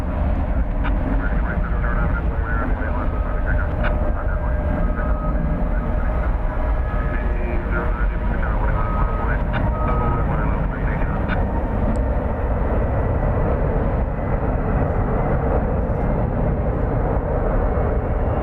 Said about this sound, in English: As we're getting a flight coming in from Omaha, right there.